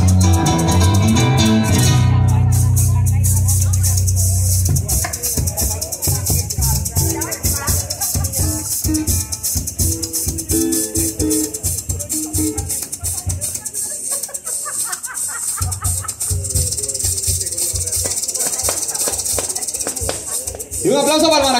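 Maracas, the Colombian capachos, played by a musician from Guaviare in a loud live music set. A fast, steady shaking rhythm runs throughout, with a voice calling out at the start.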